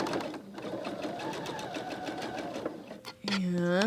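A sewing machine stitches quilt block pieces in a fast, steady mechanical whir with a rapid needle rhythm, pausing briefly before restarting, while a person talks over it.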